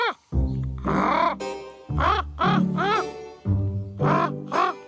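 A person's voice imitates a crow, giving a series of harsh, nasal caws in short bursts, loud and close.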